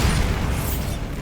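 A Bombarda spell explosion in the Hogwarts Legacy game: one heavy, booming blast that starts at full force and rumbles on loud for just over a second before easing off slightly.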